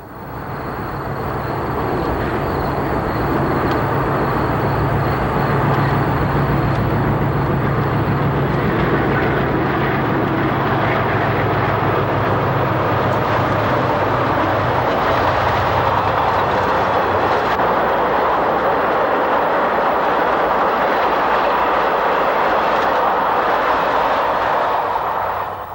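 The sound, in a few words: passenger train passing behind diesel locomotives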